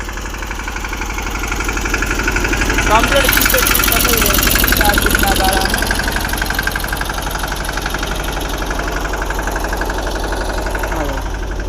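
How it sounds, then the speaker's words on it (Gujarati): A tractor engine chugging steadily nearby, a low rhythmic throb that swells slightly midway, with a person speaking briefly over it. "આ આપણું ટ્રેક્ટર"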